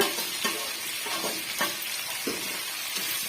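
Potato pieces frying in a pan, stirred now and then with a spatula, a steady sizzle broken by several scraping strokes at uneven intervals, close and clear with no talking.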